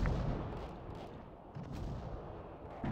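Anti-tank fire blowing up vehicles in a town in Arma 3: heavy booming blasts and rumbling explosions roll through, thick low-end impacts recurring every second or so at a fairly distant, muffled level.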